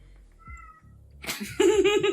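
A cat meows in the video game Stray, a soft low sound at first, then a loud, drawn-out, close meow that rises and wavers at the end.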